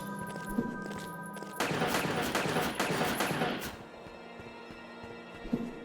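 Rapid gunfire in the video game Hunt the Night, a burst of dense repeated shots lasting about two seconds amid game sounds, with someone talking around it.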